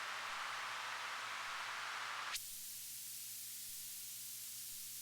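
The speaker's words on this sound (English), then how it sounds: "You hear all that hiss." Steady broadband hiss from a polyphonic Eurorack synthesizer with its bandpass filter fully open, loud and bright at first, then abruptly dropping to a dull, darker low hiss partway through, with a faint hum underneath.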